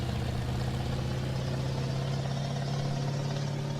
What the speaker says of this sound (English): You can hear the torque revving up that engine there